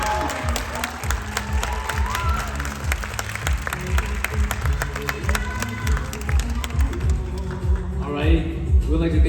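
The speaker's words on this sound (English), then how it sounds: "Can I get a round of applause?" An audience at a Hmong Culture Night stage show applauds after a ball toss act, with sustained crowd clapping, some cheering and voices mixed in throughout.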